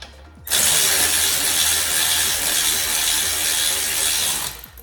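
A power ratchet runs down bolts on a Porsche 718 Cayman big brake kit, one loud continuous whirring, rattling burst lasting about four seconds at close range, no speech.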